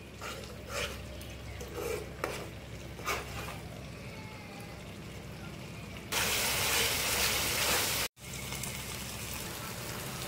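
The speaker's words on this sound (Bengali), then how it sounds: "তো মশলাটাকে ভালো করে কষিয়ে নেব।" Spice masala for mutton curry fried and stirred in a pan, soft scraping strokes over a low sizzle, then a louder, steady hiss that briefly cuts out before resuming.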